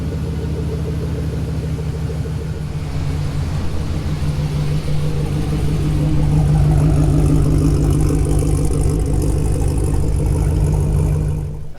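An old, worn-out Jeep engine runs steadily with a throaty low rumble and hum, loud and close, growing slightly stronger in the second half with no one speaking.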